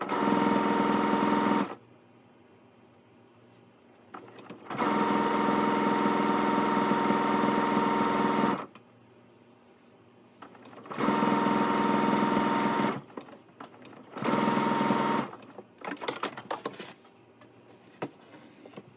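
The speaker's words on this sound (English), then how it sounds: "all you're going to do is stitch and flip and flip and flip and flip." Sewing machine stitching narrow quarter-inch fabric strips for a handbag organizer, running in several steady motorized bursts of a few seconds each, close and clear, separated by quiet pauses with light handling sounds.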